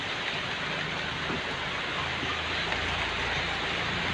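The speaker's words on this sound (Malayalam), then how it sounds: "എന്തൊരു മഴയടാ" Heavy rain pours down in a dense, steady hiss that never lets up, close and loud, with no voices heard.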